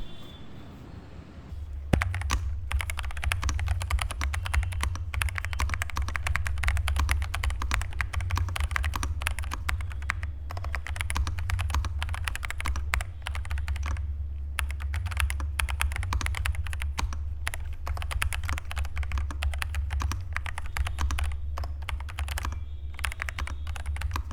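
Steady, continuous typing on an Epomaker HE 65 mechanical keyboard, crisp clacking keystrokes in rapid succession, close up, with a low hum underneath.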